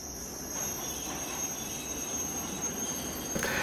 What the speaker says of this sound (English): when the subway trains would pull into the station, their screeching brakes echoing in the subway station